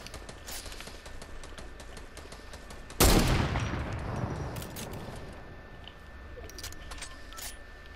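A single loud gunshot in a first-person shooter game, a sharp crack with a long echoing tail that fades over a few seconds above a steady background of game sounds, no talk.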